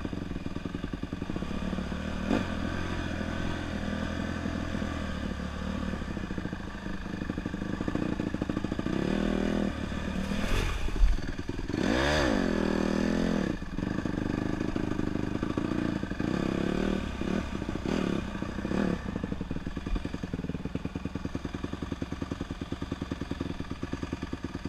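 A motorcycle engine runs steadily throughout, droning at a mid pitch with rises and dips in revs, heard close up and with no talk over it.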